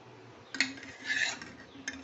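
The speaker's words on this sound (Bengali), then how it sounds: "এই যে আমি চামচ দিয়ে তুলছি, তুলে এই যে এগুলোর ওপরে ওপরে আমি ছড়িয়ে দিচ্ছি" A spoon scoops and spreads food across a dish, giving a few soft metallic clinks and a brief scrape, quiet and close, over a faint background.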